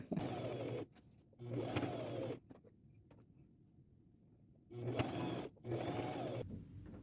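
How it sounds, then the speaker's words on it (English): A sewing machine runs straight stitches along a half-inch seam of a boho maxi dress upcycled from an old cover-up, in four steady bursts of whirring with short pauses and quiet handling between them. "I can sew this together. 1/2 inch seam allowance and a straight stitch"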